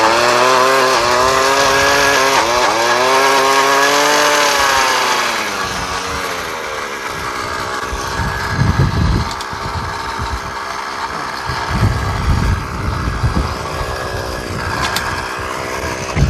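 A loud small gas-powered auger engine revs and strains while drilling into rocky ground, its pitch rising and falling, then settles into a rough, grinding drone with bursts of scraping and knocking.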